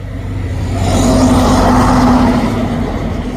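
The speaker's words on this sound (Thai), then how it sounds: "รถก็เยอะ" Busy road traffic roars past, a vehicle's engine swelling loudly then easing, with a constant broad rumble and no voices.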